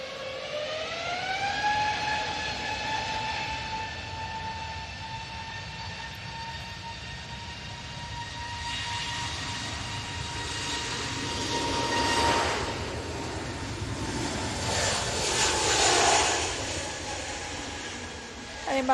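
A British Airways airliner departing, a loud rising engine whine that settles into a steady tone over a broad rumble, swelling and roaring louder toward the end, with no talk over it.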